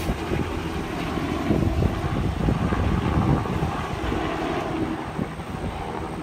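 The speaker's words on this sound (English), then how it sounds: "it had American flag on that helicopter" A helicopter flying overhead in the aftermath of Hurricane Matthew gives a steady, loud broadband rotor and engine rumble with some wind buffeting, holding throughout with no speech.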